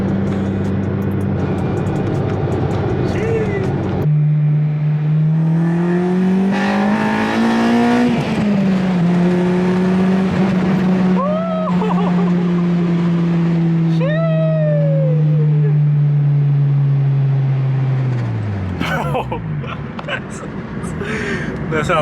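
Acura RSX Type S four-cylinder engine revs up and holds high rpm with VTEC engaging, a loud sustained rising and falling tone over several seconds, with a cat meowing and people talking nearby.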